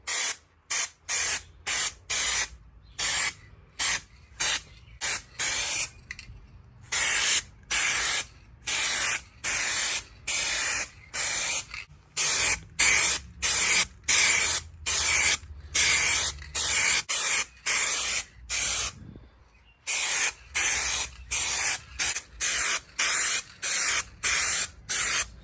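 Short, repeated bursts of spray paint applied as a first coat across a hatch board, each hissing pass separated by brief gaps in an even, steady rhythm, close and fairly loud with no talking.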